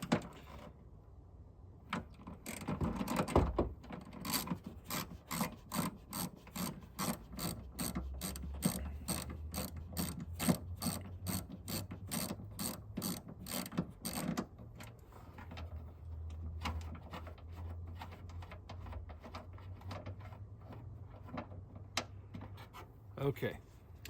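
A mounting bolt is worked loose on a Yaesu ATAS-120A antenna mount, producing a long run of steady, evenly spaced ratchet clicks that slow and blur toward the end, close up with no talking.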